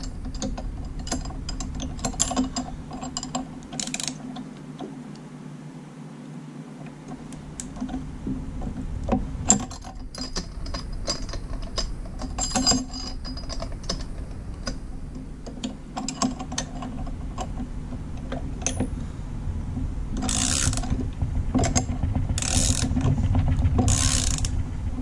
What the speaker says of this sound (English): this requires a 19 millimeter socket, and I'm gonna use a box wrench on the other end